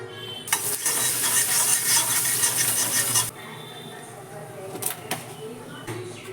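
Garlic hits hot oil in a pan, a loud bright sizzle for about three seconds that then dies down to a soft background fizz with a few utensil clinks, while someone talks throughout.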